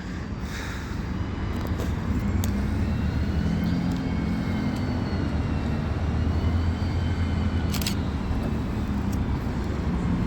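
Bus 36709 pulling away from Lincoln Central Bus Station on route 3 for Fiskerton during evening rush hour, a steady low engine rumble building and holding close by amid station ambience.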